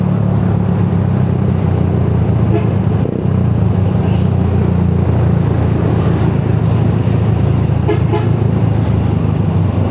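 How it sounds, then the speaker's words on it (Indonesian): Heavy road traffic with many big vehicles, heard from a Ninja 250 Fi motorcycle: a loud, steady roar of engines and tyres with a faint horn toot now and then, continuous for the whole stretch. "Ini banyak mobil gede-gede guys di sini."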